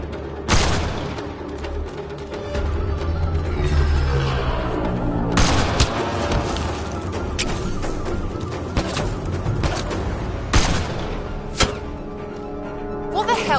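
Gunfire from a firefight in Mass Effect: Andromeda, sharp loud shots bursting at irregular intervals over a low rumbling background, with voices shouting between them.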